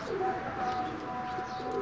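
Domestic loft pigeons, a paired male and female, coo softly and repeatedly in a low steady murmur throughout, with no talk over them.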